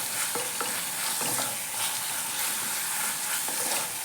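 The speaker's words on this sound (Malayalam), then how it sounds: "ഇഞ്ചിയും വെളുത്തുള്ളി, ചെറിയ ഉള്ളി, പച്ചമുളക് ഇതെല്ലാം നന്നായി വഴണ്ട് വന്നിട്ടുണ്ട്" Ginger, garlic, shallots and green chillies sauté in a pan for a fish curry, giving a dense, even sizzle with a few soft scraping stirs of a spoon near the start.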